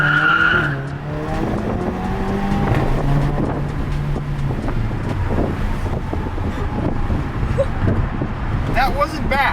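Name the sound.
Volkswagen GTI engine and exhaust accelerating on a bridge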